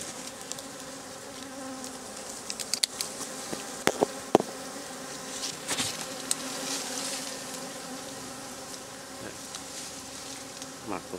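Dwarf honeybees swarm in a dense, steady buzz around a wild hive during a honey harvest in Sa Đéc, with individual bees zipping close past and faint handling noises in between.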